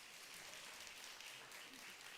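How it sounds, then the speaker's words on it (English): An audience applauds at a food summit held at SXSW 2024, a faint, steady wash of clapping heard from a distance, even and continuous throughout with no voices on top. "Another round of applause for Dr. Masino, please."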